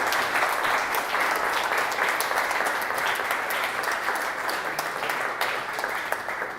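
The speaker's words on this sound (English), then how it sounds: "Would you please give him a round of applause?" An audience at a coffee shop event gives steady, sustained applause made of dense, even clapping that stays at a fairly constant level. It tapers slightly toward the end.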